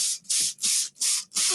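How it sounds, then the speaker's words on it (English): A handheld spray bottle mists water onto a watershed model in five quick, even bursts, each a soft close hiss with brief pauses between, and no talking. "Okay, spray again. You want it to look like rain."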